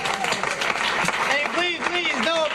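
A sitcom studio audience breaks into applause, a dense wash of clapping mixed with a voice speaking over it.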